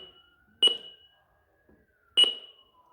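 Two sharp electronic chirps about a second and a half apart ring out from an OPAX ARD-2545 alarm panel, each a short bright tone with a quick decay, otherwise quiet.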